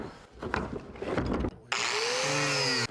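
Saw cutting a hole in a tank for a vermicomposting toilet, first rough irregular cutting noise, then a loud steady high whine for over a second before it stops abruptly.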